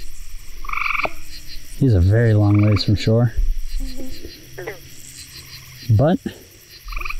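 Bullfrog croaking from a pond during a bowfishing outing, with deep, loud, rhythmic croaks that come close and strong in a burst, surrounded by background insect chirring, while someone talks intermittently.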